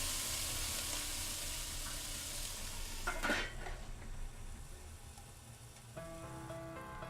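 Onion pieces sizzle loudly in a hot pan for chicken fried rice, with a steady hiss, a burst of clattering stirring near the middle, and utensil scrapes near the end.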